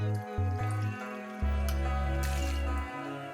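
Tequila is poured quickly into a glass for a cocktail, a short liquid splash and gurgle close up, heard under a low musical backing.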